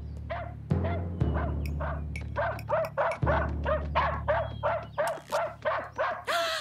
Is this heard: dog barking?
yes